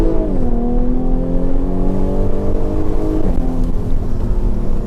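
Jaguar F-Type 340 hp engine revving: a loud, close, throaty drone that climbs in pitch early, holds a steady rising note, then dips briefly near the end before settling, with no talking.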